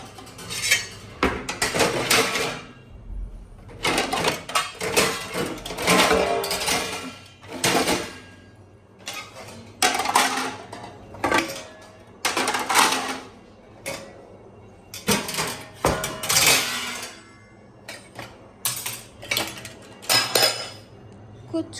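Washed steel dishes and plates clinking and clattering in bursts as they are stacked one by one, with close, sharp metallic knocks separated by short pauses.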